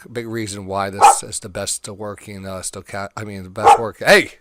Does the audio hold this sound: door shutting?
no